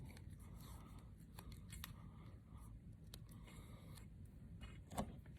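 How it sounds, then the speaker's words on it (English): Scissors snipping small strips of tape for flag taping, soft quiet cuts and rustling close by, with one crisper snip near the end and no talk. "So I'm cutting 3 little strips."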